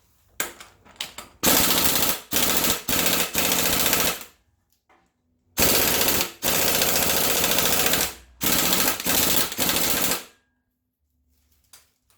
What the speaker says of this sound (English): Try the rattle gun again.